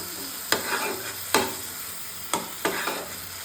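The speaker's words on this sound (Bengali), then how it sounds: "দিয়ে ভালোভাবে কষিয়ে নেব" Ginger, garlic and green chili paste sizzles in a pan with chopped tomato and salt, a steady frying hiss broken by four or five sharp scraping stirs of the spatula.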